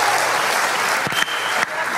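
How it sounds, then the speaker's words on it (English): A crowd claps for mothers at a Mother's Day comedy show, a dense, steady burst of applause with a couple of sharp knocks or thumps cutting through near the end. "please, a round of applause for all the mothers in this place"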